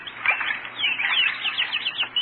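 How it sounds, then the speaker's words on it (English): Small birds splashing and fluttering in a bird bath on a front lawn, a radio sound effect: continuous close wet flapping and patter with faint chirps, no voices. "we hear the splashing of birds in the bird bath"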